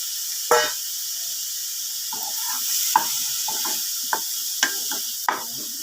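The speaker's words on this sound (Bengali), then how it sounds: "আর একটু ক্যারেট আর ক্যাপসিকাম গ্রেভিতে দিয়ে ভালো করে একটু নুন হলুদ দিয়ে ভেজে নেব।" Carrot and capsicum fry in gravy with salt and turmeric, giving a steady hiss under scattered stirring scrapes and clinks of a utensil against the pan.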